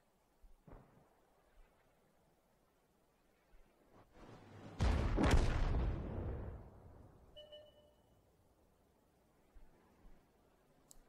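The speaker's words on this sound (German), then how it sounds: "Eine Arti, die zweite, Schuss ist raus, ah, und schlägt dahinter ein" Against near silence, a heavy World of Tanks artillery boom erupts with a rolling blast, followed by a distant thud as the shell lands and a fading rumble.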